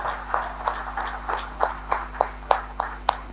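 A crowd of leaders at the opening of a motivational event claps together in an even, rhythmic beat, moderately loud over a low background hum.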